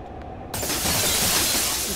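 Glass shatters in a train-escape video game: a sudden loud crash breaks in after a quiet moment, followed by a sustained bright, dense spray of tinkling shards that stays loud to the end.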